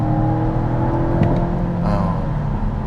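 A 2023 Volvo V60 Cross Country's turbo mild-hybrid engine hums and rises in pitch as it picks up speed on a concrete road, with steady road noise underneath.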